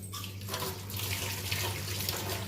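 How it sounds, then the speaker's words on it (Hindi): Lemons being rinsed under a running kitchen tap, with a steady stream of water splashing into the sink and no voices. "तो देखिए नींबुओं को मैं धो लूँगी।"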